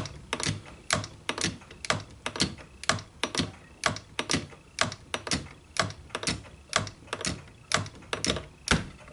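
A shop-built hand shaper cuts 4130 steel for a star wheel in a steady series of sharp metallic strokes, about two per second, loud and close with no talking.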